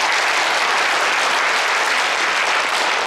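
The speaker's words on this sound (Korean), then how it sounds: "모두에게 박수 한번 보내줍시다." Dense, even applause fills a hall at a Korean hometown association's 2012 New Year gathering and general meeting, holding steady and loud for three seconds with no voices above it.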